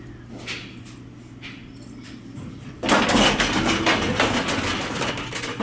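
An Otis traction elevator in a Louisville, Kentucky office building: a low hum with faint clicks, then an abrupt loud broadband rumble as the doors and car move, continuing steadily.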